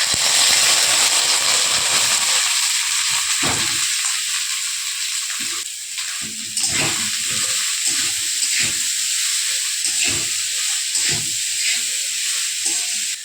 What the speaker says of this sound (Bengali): এখন সর্ষের তেল দিয়ে দিলাম, জিরে ফোড়ন দিয়ে দেব।